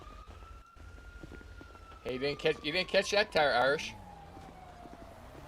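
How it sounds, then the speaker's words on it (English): Ambulance siren in a video game, a wailing, sweeping tone heard mid-distance that swells and pulses for a couple of seconds over a low steady hum, with a voice talking around it. "that is a ambulance"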